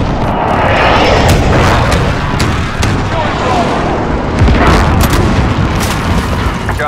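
Airstrike explosions in Call of Duty Modern Warfare ground war on Verdansk roll as a dense, continuous barrage of loud booms and rumbling blasts mixed with aircraft roar and gunfire, while a voice talks over the chaos.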